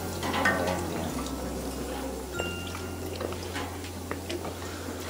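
Water runs steadily while glass bottles are washed with hot water at home, with faint clinks and splashes over a low hum.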